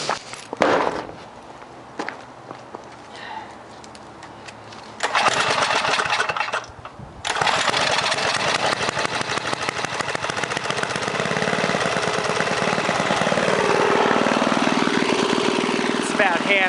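1978 John Deere Tecumseh HM80 8 horsepower small engine sputters briefly, then roars into a loud, steady run at about half throttle, a continuous close drone with a short dip partway.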